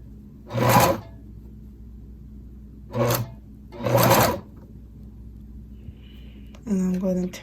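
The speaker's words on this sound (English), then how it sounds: "And I'm gonna sew again. And I'm gonna back stitch it and go again." A sewing machine stitches and back stitches a zipper in three short bursts separated by quiet pauses, with a brief voice near the end.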